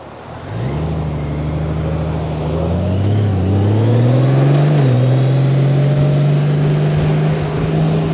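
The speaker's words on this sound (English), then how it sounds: "Let's wait for these cars to go by" Cars driving past on a road near a stopped 2021 Honda Gold Wing DCT motorcycle, engines swelling as they approach and pass close by, one after another, with steady engine drone throughout.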